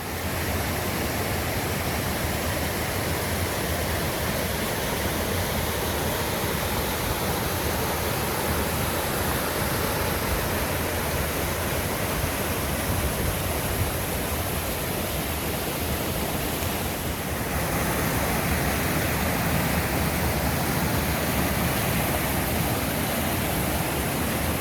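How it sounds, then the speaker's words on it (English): A large waterfall roars steadily in the distance along a mountain hiking trail, a dense unbroken rush of falling water lasting the whole stretch with no voices. "Oh, there's a huge waterfall down there."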